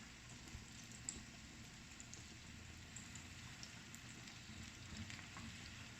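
Flour-coated chicken thighs deep fry in hot oil, a faint, steady crackling sizzle with scattered small pops, heard alone without speech.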